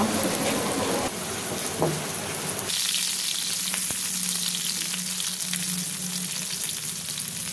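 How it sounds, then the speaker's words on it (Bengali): Chopped onion, garlic and dried chili sizzle loudly in hot oil for a beef nehari tempering, a dense steady hiss that sounds harsher at first, then settles, with a few faint utensil taps, close and continuous with no talking. "এখন আমি তেলের ভিতর বাগার দিয়ে দেব।"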